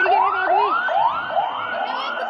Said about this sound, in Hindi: आपको फुल आवाजें आ रही होंगी एम्बुलेंस की।